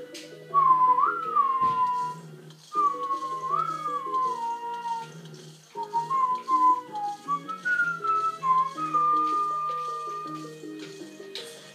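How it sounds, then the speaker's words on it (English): A person whistles a wandering melody over looping Plants vs. Zombies background music, in several phrases with short breaks, the whistle close and louder than the game tune. "Not meaning to, you know, whistle over the music or anything"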